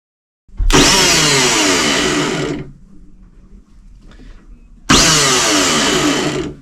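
A sailboat's engine is started by touching a wire to the starter: it cranks and roars loudly for about two seconds, drops to a quieter rumble, then bursts loud again and keeps running.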